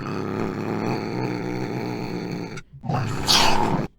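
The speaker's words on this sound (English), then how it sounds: "I really like the growl in this initial one." A creature growl from a sound-design library, a deep rumbling, layered snarl held for a couple of seconds, then a brief pause before a harsher, louder roaring burst, with no talking.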